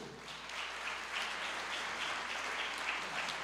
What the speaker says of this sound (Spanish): Nuevamente un aplauso para la experiencia de Medellín.